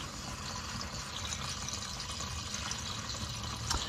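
Hot Amsoil Signature Series 5W-30 engine oil drains from a drain plug in a steady, quiet trickle and gurgle, with a faint clink near the end.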